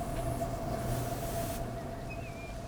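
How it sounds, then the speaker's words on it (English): A stone freight train pulls into a station in the Transport Fever video game, with a steady, loud rail rumble and a thin sustained whine, then a brief rising squeal near the end. No one speaks. "a stone train has actually turned up"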